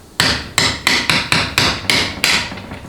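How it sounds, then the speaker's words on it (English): Eight crisp metallic taps in an even rhythm from a screwdriver struck against the wedge seal inside a 4L60E automatic transmission case, close and loud with no talk. "To get the wedge seal out, all you got to do is come here with like a screwdriver"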